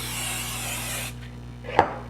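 An aerosol can sprays cooking oil into a bread dough mixing bowl in one steady hiss lasting about a second, followed by a short knock or clatter, with no talk.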